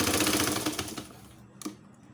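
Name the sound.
sewing machine stitching a stuffed toy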